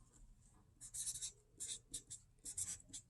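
A marker or pen writing phrases onto a DIY paper photo prop, quick bursts of scratchy strokes in uneven clusters, close and quiet with no talking.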